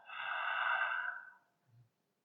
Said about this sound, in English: Take some nice deep inhales through your nose. Let out some long, slow exhales through the mouth.